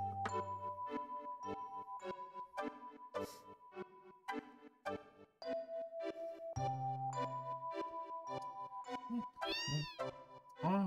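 A cat meows repeatedly in the video game Final Fantasy VII, a string of short, clear mews at an even pace mixed with tinkling chime tones, close and loud, with no speech.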